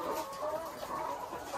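Chickens cluck steadily on an egg layer farm with caged Dekalb White hens, a dense continuous flock murmur at close range with no talk.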